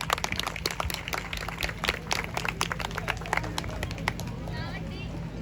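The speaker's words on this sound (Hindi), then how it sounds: "लड़की वालों की तरफ से बारात को तालियां बजा के वेलकम करते हैं।" Wedding guests at a farmhouse clap to welcome the arriving groom's procession, a steady run of close sharp claps under crowd chatter and voices.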